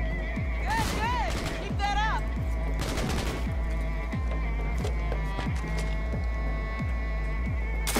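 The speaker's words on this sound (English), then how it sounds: "Oh, I can shoot through walls. That's a gun." Gunfire in the video game Cyberpunk 2077, a steady run of regular shots with other game effects, while a person talks excitedly over it.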